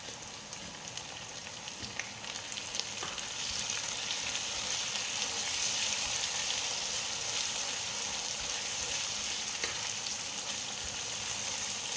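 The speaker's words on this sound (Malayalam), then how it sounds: "തക്കാളി ഇട്ട് ഒന്ന് വഴന്നതിന് ശേഷം നമ്മളെടുത്ത് വെച്ച മസാല ഐറ്റംസൊക്കെ അതിലേക്ക് ചേർത്ത് വഴറ്റാം" Onions and tomatoes sautéing in a pan for Kerala-style nadan beef curry, a steady close sizzle and crackle of frying with occasional stirring scrapes, no voices.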